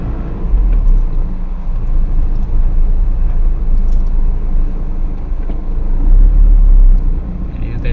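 Steady low road rumble from inside a vehicle driving along EDSA in Manila, a continuous drone of traffic and engine noise with a few faint ticks, no clear separate passes.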